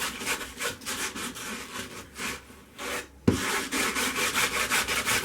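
A scrubbing brush rubs back and forth over a stained glass panel in quick rhythmic strokes, a steady close scratchy rasp with a brief pause and a knock midway before the scrubbing resumes.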